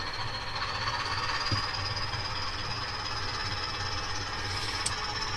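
A model train locomotive runs steadily on a layout, giving a constant mechanical whir and rumble with a thin high whine on top and one brief click, fairly close with no talking.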